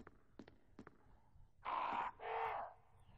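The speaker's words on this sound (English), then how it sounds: "Hey, crows." Crows in the survival horror game Resident Evil HD caw twice, long and harsh, after a few faint clicks, loud and close with no talk.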